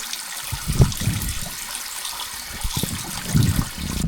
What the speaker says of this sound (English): I have this running water